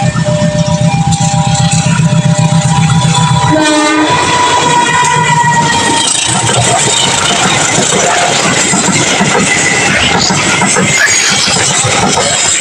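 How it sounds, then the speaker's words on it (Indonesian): The Majapahit passenger train, bound for Pasar Senen and made up of 14 premium coaches, a dining car and a power car, passes Cikarang station with a loud horn blast followed by a close, continuous roar of wheels and carriages. "Kereta api Majapahit dengan tujuan stasiun Pasar Senen sudah meninggalkan stasiun Cikarang."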